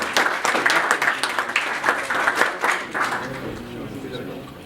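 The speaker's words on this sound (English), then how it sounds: "So round of applause please for Alain Ebobisse to give his keynote remar" An audience applauds a keynote speaker at an energy project event, dense, continuous clapping that stays loud and then thins out toward the end.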